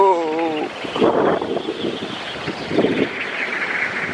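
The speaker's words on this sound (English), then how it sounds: "Here we go, big gust." A strong storm gust roars through trees near a wind turbine, swelling in loud rushing surges with rustling leaves and broadband noise throughout.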